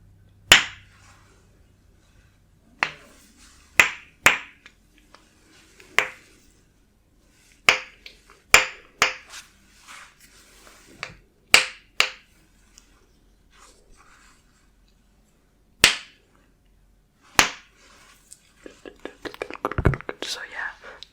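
Fidget toys and sensory items produce a scattered series of sharp clicks, snaps and taps at close range, separated by quiet gaps, ending in a burst of rapid rattling, with soft whispering in between.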